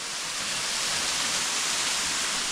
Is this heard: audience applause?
no